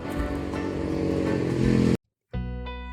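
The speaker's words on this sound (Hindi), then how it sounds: "मोहन शहर में अपनी बाइक लेकर निकल पड़ता है।" A cartoon motorcycle engine revs loudly and steadily as the bike sets off into the city, cutting to silence before a brief tonal sound resumes.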